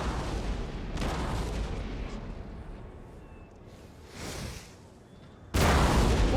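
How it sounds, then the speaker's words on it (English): Artillery fire in Napoleon Total War, several cannon blasts from near and far with rumbling gaps between them, ending on a loud close boom. "Let the artillery do a lot of the damage"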